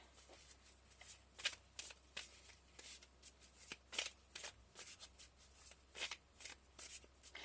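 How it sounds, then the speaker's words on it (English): Tarot cards are handled and pulled from a deck, a quiet close series of soft riffling and sliding card sounds in irregular bursts. "Alright, pulling one more card."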